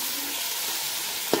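Onions and tomatoes sizzle steadily while sautéing in a pan for chicken biryani, with a short clink or stir near the end.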